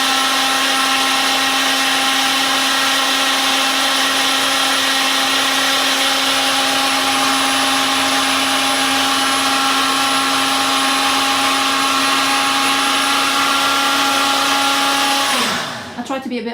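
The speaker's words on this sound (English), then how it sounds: "I think you need a liquidizer for this" Liquidizer whirring steadily at high speed while blending a vegan macaroni cheese sauce, loud and continuous with a droning motor tone, then winding down abruptly at the end.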